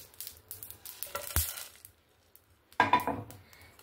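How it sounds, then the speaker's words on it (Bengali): A spice mix fries in a pan, with intermittent stirring scrapes and a sharp clink of utensil against metal between quieter stretches of faint sizzling. "এখানে দেখুন মশলাটা আমার সুন্দরভাবে ভাজা হয়ে গেছে"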